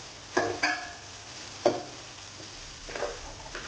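Carrots for chicken fried rice sauté quietly in a pan, with a soft background sizzle broken by a few sharp scrapes and clacks of a spatula stirring.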